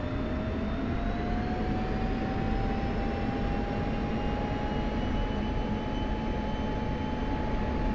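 An F-16C Viper jet engine in the DCS video game during takeoff: a constant, loud roaring rush with a slowly rising whine, steady and unbroken throughout.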